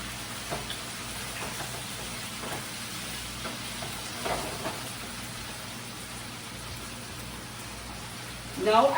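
Jamaican red herring simmering in a pan with ketchup gives a steady, soft sizzle and crackle throughout, with a few faint stirring scrapes and a brief louder rustle at the end.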